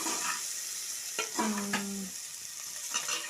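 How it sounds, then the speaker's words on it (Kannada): Okra frying in a pan for sambar, a soft continuous sizzle with a few clinking stirs of a utensil against the pan, close and quiet. "ಬೆಂಡೆಕಾಯಿ ಹಾಕ್ಕೊಂಡು ಹುರ್ಕೊಳ್ಬೇಕು"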